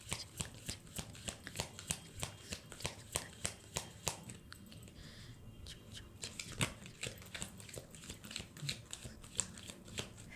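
Tarot cards being shuffled by hand, a steady run of crisp riffling slaps and flicks repeating at a quick, even rhythm, close and fairly quiet with no voice over it.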